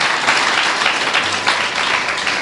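Church congregation clapping loudly, a thick continuous roar of hands from many people, close and sustained throughout.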